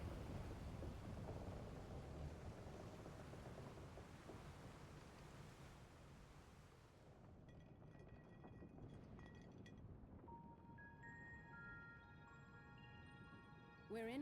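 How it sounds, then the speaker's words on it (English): In Final Fantasy XIV, a storm at sea on a ship's deck brings steady rain and a low rumble of thunder. Faint game chimes and tones come in later, all fairly quiet. "We're in for a proper storm, it seems."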